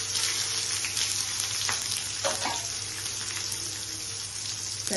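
Grated coconut sizzles steadily in hot oil in a pan while a Bengali chholar dal tadka is made, a dense continuous frying hiss with a few soft stirring clinks.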